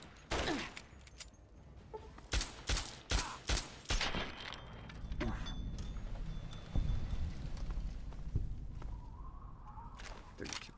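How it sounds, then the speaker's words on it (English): Gunfire from a shootout in Fallout 3 crackles through as sharp shots in quick bursts. Louder volleys come early, then a busier stretch of scattered reports and clatter follows at moderate distance. "Okay, you shall talk with bullets."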